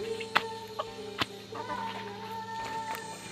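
Heritage chickens clucking nearby on a goat farm in short scattered bursts, with a few sharp louder calls over a steady farmyard background.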